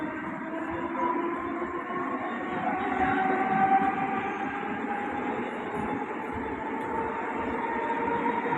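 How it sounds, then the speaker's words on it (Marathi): A Mumbai local train pulls into the platform at Vikhroli station with a steady low rumble and rolling rail noise and a faint squeal of wheels partway through. It sounds continuous and moderately close, with no talk. "7:30 fast local for Thane is arriving shortly on platform number 3"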